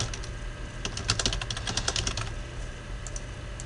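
Fingers typing on a computer keyboard while entering text in a spreadsheet-style table, a quick run of light clicking keystrokes in bursts, close and fairly faint, with a few scattered taps near the end.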